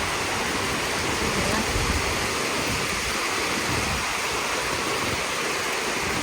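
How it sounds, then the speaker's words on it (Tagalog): A downpour of heavy rain roars as broadband wash, constant and close, with slight surges in low rumble and no voices over it. "Lakas talaga ng ulan."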